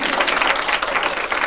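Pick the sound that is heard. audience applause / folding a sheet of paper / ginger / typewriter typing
audience applause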